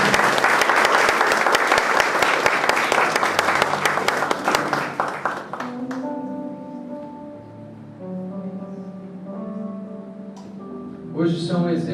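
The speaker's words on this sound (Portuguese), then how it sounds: "25 anos merece uma salva de palmas" A church congregation applauding a couple celebrating their 25th anniversary, loud sustained clapping from many hands that fades out after about five seconds, followed by a voice speaking into a microphone.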